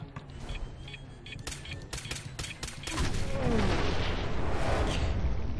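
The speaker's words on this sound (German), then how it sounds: "Der sprengt sich jetzt gleich in die Luft." A super mutant's bomb explodes in the video game Fallout 4, preceded by sharp repeated gunshot cracks, then a loud sustained roaring blast and rumbling debris close up.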